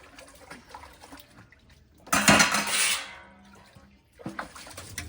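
Metal pots, dishes and cutlery clatter and scrape while being washed in a home kitchen, with a loud burst of clanking over running water in the middle and softer knocks around it.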